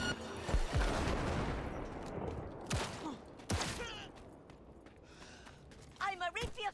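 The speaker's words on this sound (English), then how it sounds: "Here's some fireworks." Fireworks in the video game Cyberpunk 2077 go off as a burst of rapid crackling pops and a few sharp bangs, with game noise and a talking voice around them, fading to quieter crackle before some chirpy sounds at the end.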